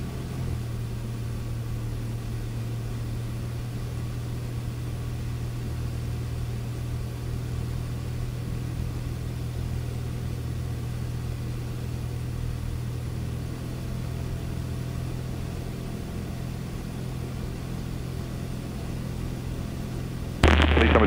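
Piper Archer light aircraft in flight with the engine throttled back, a steady low drone with a constant hum running unchanged for about twenty seconds, then a brief louder burst at the very end.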